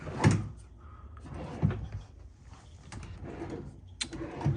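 Hotel room dresser drawers slide open and shut in a suite, several separate wooden thumps and scrapes spread out over a few seconds, close and moderately loud.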